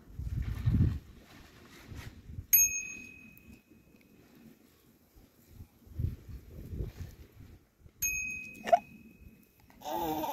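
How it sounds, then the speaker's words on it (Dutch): Two small bright bell dings, a few seconds apart, ring out over a quiet room with soft rustling and a child's babble. "Dat is een bel."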